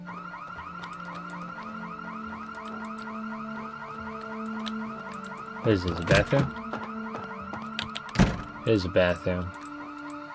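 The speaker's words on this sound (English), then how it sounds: "An alarm is going off and we do not have a weapon." An alarm in the video game Project Zomboid (Build 42) wails in a repeating, rising-and-falling electronic cycle that runs continuously, with a player talking over it and a few sharp louder bursts.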